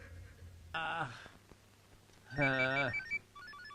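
A cell phone rings in a film action scene: two short electronic tonal bursts separated by a pause, then a quieter rising melodic tone sequence, all fairly close and clear.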